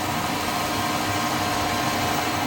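A pilot drill bit running through metal with water coolant while building a handmade Harley Dyna custom bike, giving a steady, loud broadband machine drone with constant hum and no pauses.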